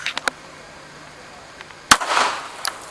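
A single sharp gunshot from an Armscor 1911 9mm pistol, a loud crack followed by a short burst of noise, with faint smaller pops around it and no talk.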